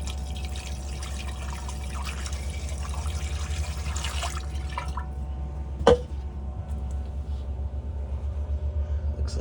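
Water from a cup is poured down the drain pipe of a vanlife toilet, trickling and splashing for several seconds before a single sharp knock, all over a constant low rumble.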